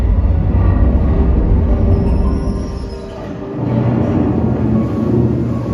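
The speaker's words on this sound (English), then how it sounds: "And here comes the ore train." A loud, steady rumble of a heavy ore train rolling on rails at a mine museum, with a brief dip in the middle before the low roar builds again.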